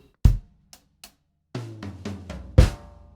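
A drum fill: sharp isolated hits, then a quick run of tom strikes around the kit ending in a loud crash, played alone with no talking.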